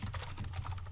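Keys clatter in a quick, steady run of soft clicks on a computer keyboard, close and moderately quiet over a low background hum, with no one talking.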